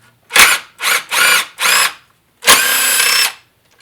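A power tool removing the four fuel rail fasteners on a Ford 4.6L V8, with close, loud whirring bursts: four short runs, then one longer sustained spin, separated by brief silences.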